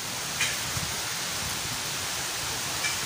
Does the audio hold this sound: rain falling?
yes